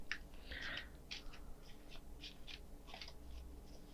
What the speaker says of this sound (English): let's shuffle just a little bit more.